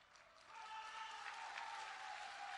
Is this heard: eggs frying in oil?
no